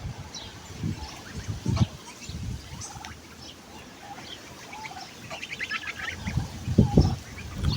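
Newly arrived farm turkeys call in faint, scattered bursts, with short clucking and honking notes rising over quiet outdoor background noise.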